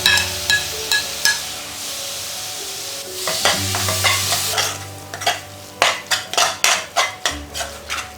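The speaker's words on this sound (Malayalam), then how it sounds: "തക്കാളി കൂടെ നമുക്കിതൊന്ന് നല്ലവണ്ണം വഴറ്റിയെടുക്കാം" Chopped tomato sautéed with spiced masala in a pan while making Malayali-style chicken puttu: a steady sizzle under sharp, rhythmic scrapes and clatters of a spoon stirring, quickening into a run of distinct knocks near the end.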